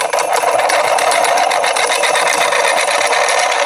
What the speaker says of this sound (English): when you put on 3-phase power, this magnet will spin